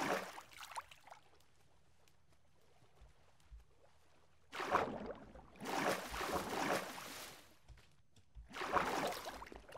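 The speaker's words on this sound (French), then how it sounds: "Le bruit de l'eau me semble assez fort en fait." Minecraft water rushes, swelling in loud bursts separated by quieter stretches, with a faint low hum underneath and no talking.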